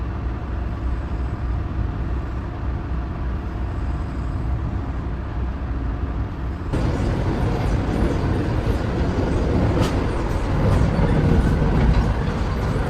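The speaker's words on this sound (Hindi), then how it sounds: "निकलती ही गाड़ी 130 की रफ्तार में भाग रही है।" Vande Bharat Express 22436 running at around 130 km/h on the Delhi to Varanasi route, heard as a steady broadband rumble that grows louder and rougher about halfway through, with no talk.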